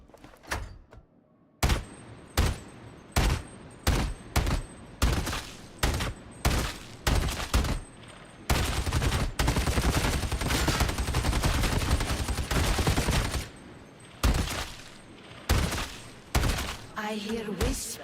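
A heavy stubber machine gun fires in the Darktide video game, first in short clipped bursts with gaps between them, then in a long sustained roar of automatic fire, then again in short bursts, loud and close.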